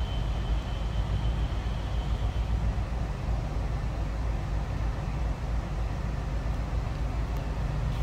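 A 1964 Cadillac Sedan DeVille four-door hardtop with a 429 V8 idles quietly, a smooth low rumble that stays even and continuous from nearby, with no talking.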